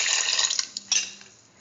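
Water poured into a cauliflower and chayote rice mixture in a pressure cooker, a steady splashing pour with a few brief clinks that tapers off over under two seconds.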